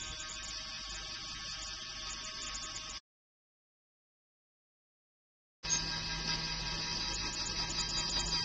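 A small motor driving a worm gearbox on a pole-climbing robot whirs in a steady mechanical drone with faint ratcheting texture, cutting out to silence for a few seconds before resuming.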